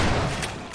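A shotgun's alternate fire in the Half-Life 2 video game: one loud, close double blast that starts at full force and decays over less than a second, heard alone.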